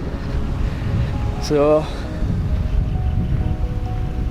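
Steady wash of sea waves at a pristine beach in Ranna, Sri Lanka, mixed with wind noise, with a brief voice heard partway through.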